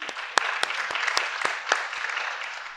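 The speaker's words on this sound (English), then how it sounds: "Yeah, round of applause." A brief spell of audience applause at a panel event on food systems, dense and fairly close, with a few sharper individual claps standing out.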